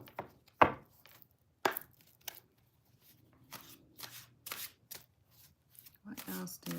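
Tarot cards shuffled by hand, a few sharp riffling bursts and soft slapping shuffles spaced irregularly and heard close and quiet, with gaps of near silence between them.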